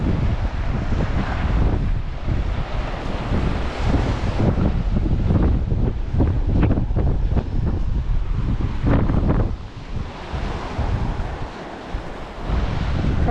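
Strong wind gusting at a lagoon, buffeting the microphone with loud, continuous roaring noise, with surf or waves mixed in and no talking.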